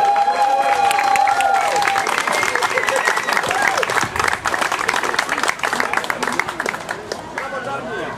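An audience at a sailing regatta prize ceremony on Lake Narie applauds the winning crew, with dense continuous clapping and some cheering throughout and voices mixed into the crowd noise.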